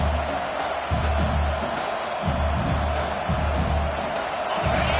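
Broad, steady roar of a large stadium crowd at an Oregon vs Texas A&M football game, loud and continuous, with faint pulsing swells and no clear voices standing out.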